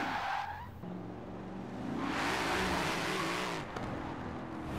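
Tyres squeal and skid as a car drifts sideways in Forza Horizon 4, a sustained loud screech over engine roar that swells mid-slide and carries on to the end, with no talking.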